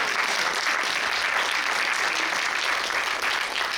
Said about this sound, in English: yeah, you could clap for that